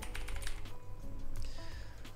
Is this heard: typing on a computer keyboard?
yes